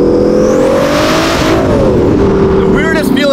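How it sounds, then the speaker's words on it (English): Twin-turbo Ferrari F12 exhaust revving loudly while driving on city streets, a strong steady engine drone that rises and dips in pitch, with people talking over it inside the car. "The weirdest feeling is hearing the exhaust in front of you."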